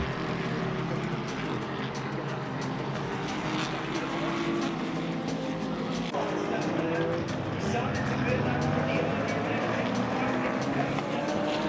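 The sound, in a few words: IMSA race cars driving past at the Brickyard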